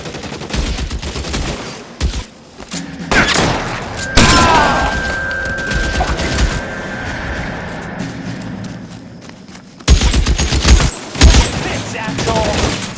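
Gunfire in the video game L.A. Noire: loud, close bursts of shots and booming blasts in a rapid exchange, with a shouted voice mixed in among the firing.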